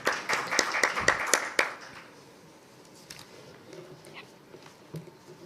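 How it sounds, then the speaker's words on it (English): Audience applause at an actuarial conference session, a dense burst of clapping for the first two seconds that quickly fades into a quiet room with scattered faint noises. "May we have a round of applause,"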